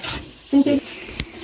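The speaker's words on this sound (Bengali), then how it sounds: "এখানে পনির ভাজা হচ্ছে" Paneer fries and is stirred in a pan, with a low steady sizzle broken by a couple of brief scraping stirs and a sharp utensil tap.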